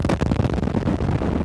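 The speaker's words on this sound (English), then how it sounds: "Iraq's air defenses started firing into the sky" Sustained, dense barrage of anti-aircraft fire from Iraqi air defenses over Baghdad, a continuous rumbling crackle of overlapping bursts with no pauses, heavy and fairly close.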